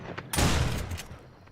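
A single loud gunshot in the video game True Survival cracks out sharply after a brief quiet start, then rings off into a fading echo.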